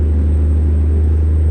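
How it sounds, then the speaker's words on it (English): A deep, steady engine rumble drones continuously at a constant pitch, loud and close, like a heavy truck idling or cruising, from a truck in American Truck Simulator. "Not many people said anything about the sound of the engine."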